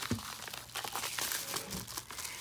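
A padded USPS Priority Mail flat rate envelope is handled close up, with continuous crinkling and rustling of its plastic-like material, fairly quiet and uninterrupted.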